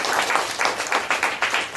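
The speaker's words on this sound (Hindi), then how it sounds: "एक बार ताली बजा दीजिएगा।" Seminar audience clapping together after a speaker requests a round of applause, a dense, steady patter of many hands with small rhythmic surges, fairly near and without talk.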